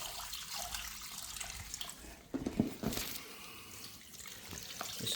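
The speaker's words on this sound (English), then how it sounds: "So effectively, we start watering." Water pours steadily from a watering can as greenhouse plants get a dark, rich seaweed and tomato feed, a continuous close splashing flow with a few brief louder splashes midway.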